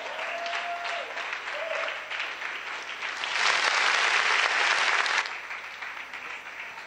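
Loud audience applause with cheering at a church concert anniversary celebration, sustained and dense, swelling around the middle before easing off, welcoming a guest onto the stage.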